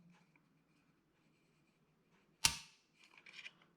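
Trigger pull test on a Bul Armory SAS 2 Bullesteros pistol: a single sharp, crisp click breaks the near silence, followed by faint small handling rattles.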